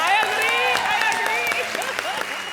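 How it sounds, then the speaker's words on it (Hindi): Studio audience clapping on a Hindi comedy show, a steady burst of applause lasting a couple of seconds with cheering and voices mixed in over music. "तालियां भैया"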